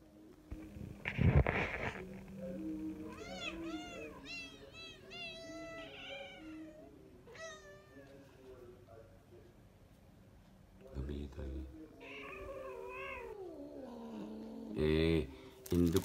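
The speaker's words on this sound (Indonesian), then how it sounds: "Itu kucing lagi, Inyong." A male cat still in heat four days after neutering meows and caterwauls in a long series of drawn-out, wavering cries, fairly close, while people talk quietly and a few louder bumps are heard.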